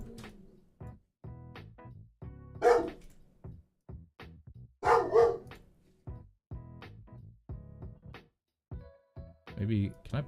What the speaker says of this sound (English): Sorry if you guys hear my dog barking in the background.